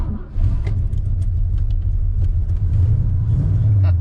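Ford Mustang V8 fitted with a Summit Racing turbo muffler exhaust, a deep steady rumble at low revs that builds slightly toward the end, heard from inside or near the car.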